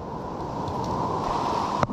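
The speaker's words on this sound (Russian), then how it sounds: "большие камни, большие волны" Big waves break on large rocks on an Antigua shore, a dense, continuous roar of surf with wind buffeting the microphone and a brief knock near the end.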